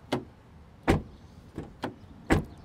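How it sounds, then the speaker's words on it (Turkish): A 2025 VW Taigo Style 1.0 TSI's car door is shut several times, giving five short, solid thuds spaced unevenly over a few seconds, close up and clear against a quiet background. "Aracın içine geçmeden size kapı sesini biraz dinleteyim."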